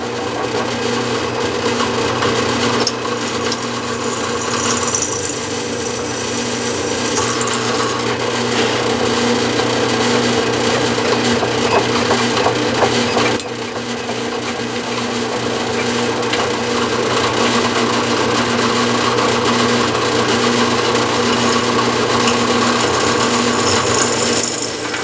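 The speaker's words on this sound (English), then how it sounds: "Okay, I think we're ready to drill the first hole." A power drill bores continuously into a bracket for a 2-meter halo antenna, a steady grinding whir with a brief dip midway, close and loud with no talking.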